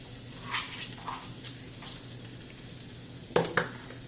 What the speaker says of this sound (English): Now what I'm going to add is my green pepper.